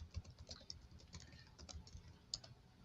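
Steady typing on a computer keyboard, with quiet, uneven clusters of soft key taps and occasional sharper clicks, close by in an otherwise quiet room.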